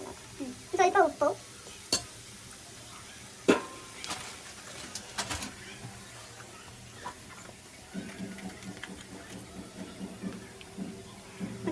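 Food fries in oil over a high flame, giving a low steady sizzle with a few sharp clatters and stirring scrapes as people talk nearby.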